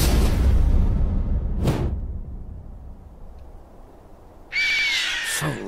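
Game creature sound from Borderlands 2 for Mordecai's bird Bloodwing: a brief whooshing screech near two seconds, then a louder bright shrill cry with a sharp burst toward the end over a low rumbling game background.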